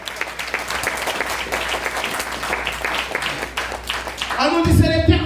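Church congregation applauding during a sermon, a steady wash of many hands filling the room, swelling louder toward the end as a low rumble of voices or music comes in.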